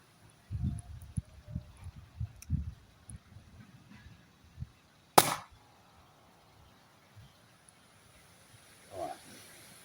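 A single sharp report from an Umarex Glock 17 Gen 5 pellet pistol cracks out once, loud and close, after muffled handling knocks and low talk, followed by quieter fumbling.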